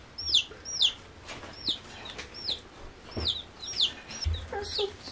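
Baby chicks in a brooder, kept alongside a duck, peep in repeated high chirps about twice a second, close and clear, over a low background hum with a few soft thumps.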